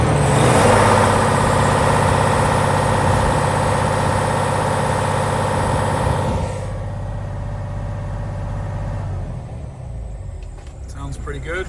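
A 2020 heavy-spec Freightliner Cascadia with a 505 hp DD15 diesel idling, a loud steady low rumble that drops in level partway through, heard close up.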